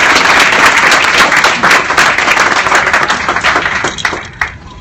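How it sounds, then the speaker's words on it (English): A live studio audience at a talk show claps loudly and densely, a full burst of applause that holds strong for several seconds before thinning into scattered claps near the end. "Let's clap it up for that question."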